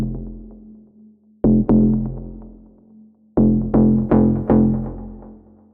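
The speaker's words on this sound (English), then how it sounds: "This is a more FM based shot and sounds like this" FM-style bass shot synth for melodic techno hits in punchy, tonal stabs: a pair near the start, then a quicker run of four, each with a sharp attack and a ringing decay over a low sustained drone.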